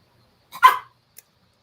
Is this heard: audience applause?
no